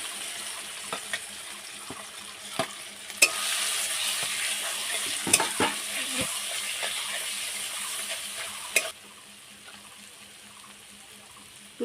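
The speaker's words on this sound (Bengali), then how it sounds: "পেঁয়াজ লঙ্কা যে তেলে ভেজেছিলাম সেই তেলে এটা আবার দিয়ে দেবো।" Ground drumstick paste going into the same oil in a wok that earlier fried onion and chilli, giving a loud hiss that rises suddenly with scattered clacks of stirring, then quiets near the end.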